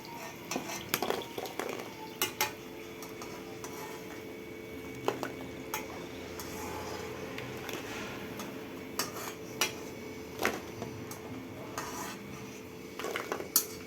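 Homemade pani puri puris being lifted from a frying pan, with scattered metallic clinks and scrapes of a slotted spoon against the pan over a faint low sizzle of hot oil, close and unhurried.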